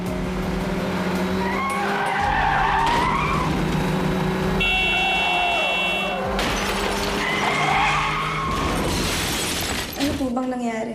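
Car tires skidding and screeching in a TV drama scene after brake failure, a loud sustained squeal mixed with crashing and shattering noises under a dramatic music score and shouting voices.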